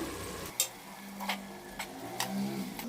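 A spoon stirs frying masala with salt in a pan for fenugreek (methi) pulao, giving a few soft scrapes and clinks over a faint, low sizzle, close and quiet with no voices.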